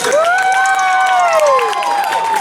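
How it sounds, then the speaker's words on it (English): An audience at a 2015 sci-fi fan convention in Wales cheers and applauds a guest onto the stage, with high whoops and shouts over steady clapping, loud and continuous throughout. "big round of applause for Des."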